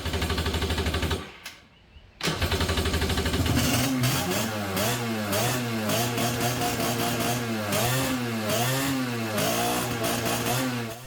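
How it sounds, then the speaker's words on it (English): An old two-stroke Kawasaki 750 jet ski engine being revived runs with a raspy, buzzing drone, cutting out briefly before catching again and revving up and down in rising and falling surges. "I love that wondrous sound you get out of old 2-stroke engines"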